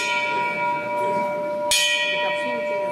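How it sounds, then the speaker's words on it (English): Church bells ring with a long sustained resonance, a fresh strike landing partway through and layering over the lingering hum. "What's that I hear? 12 o'clock in the daytime, church bells ringing."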